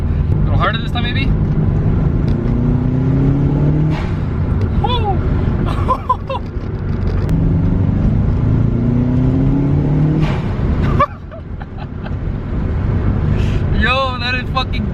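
Stock Subaru blowoff valve, modified to be louder, venting as the engine revs: a sustained engine drone with whooshing, fluttering releases near the start and end, up close with someone talking over it.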